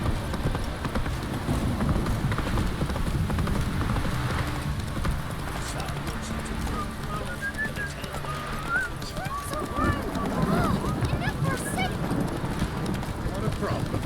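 Roach, the horse in The Witcher 3 game, gallops with steady rhythmic hoofbeats close by, a brief whinny and soft wind noise mixed in under occasional talk.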